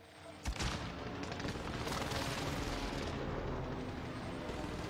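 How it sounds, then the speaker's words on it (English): An incoming airstrike in Call of Duty: Warzone lands as a sudden blast followed by a sustained roaring barrage of rumbling explosions, loud and continuous with faint voices beneath. "Commence airstrike."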